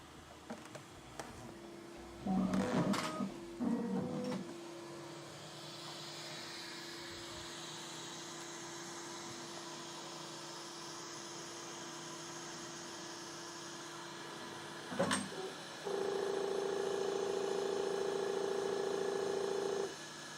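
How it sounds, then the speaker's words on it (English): A Bambu Lab X1 3D printer purges and loads filament, giving a steady low mechanical hum with a few short clattering bursts, a sharp click, and then a louder sustained motor whine near the end. "printer is purging and loading the first color"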